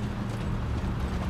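A horse in Uncharted 3 clip-clops steadily for a moment, dense hoofbeats close and loud over a rumbling low background, with no speech.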